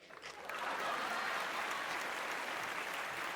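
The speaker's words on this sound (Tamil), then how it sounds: "இதுக்கு நிறைய கைத்தட்டு வரும் நான் எதிர்பார்த்தேன்." A studio audience at a Pongal special Tamil debate show breaks into dense, steady applause that swells quickly and holds loud throughout, with no voices over it.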